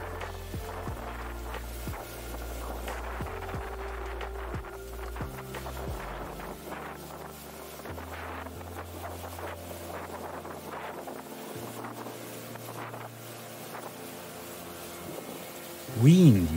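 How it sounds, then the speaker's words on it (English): Wind blowing over a river from a boat in Chobe National Park, with steady low gusty rumble and wind buffeting the microphone, a low engine-like drone underneath, and a brief louder gust at the very end. "Wind is slowly picking up, creating small waves."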